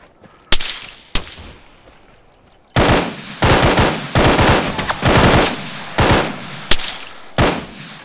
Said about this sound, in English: I'm shooting him